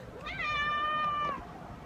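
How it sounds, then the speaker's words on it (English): A fussy cat lets out one clear, whining meow up close that rises and holds before trailing off, over a faint room background. "Little cat's having a little fussy fit."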